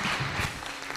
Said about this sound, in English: A clap offering and please be seated.